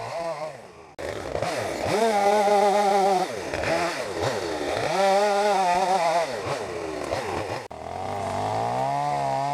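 A chainsaw cuts and trims felled trees, revving loudly in repeated surges with brief drops in pitch between cuts. The saw is close and dominant, and a short pause comes before it revs again.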